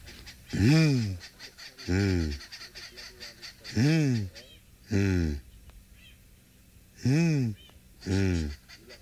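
A voice imitates a spotted eagle owl's call on a safari game drive with six low, hooting calls that sweep downward, repeated at roughly two-second intervals, close and fairly loud over a faint background hum.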